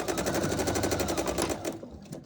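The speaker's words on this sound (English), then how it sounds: "I'm gonna stitch all the way off." A sewing machine stitches quilt fabric with a fast, even rattling hum, close by, running steadily before slowing and stopping near the end.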